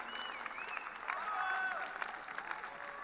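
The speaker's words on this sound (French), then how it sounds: "On peut les applaudir très fort, s'il vous plaît." An audience at an award ceremony claps in a steady, dense wash of applause, with a voice speaking over part of it.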